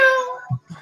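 A short, high-pitched electronic meow tone from an RC aircraft's sound mode, sliding downward, followed by two soft low blips, close and clear.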